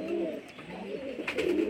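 Young Madras pigeons of the Gola line, kept at home, coo in low throaty bursts at the start and again near the end, close by with no speech.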